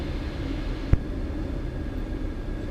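A Eurofox tailwheel light aircraft on approach to a grass landing in a slight right crosswind, its engine a steady low drone throughout with two brief thumps.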